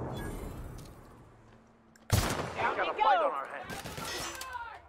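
Gunfire from weapons in the video game The Outer Worlds: a sudden sharp burst of shots partway through, followed by a few more close, loud reports mixed with game effects and some voices.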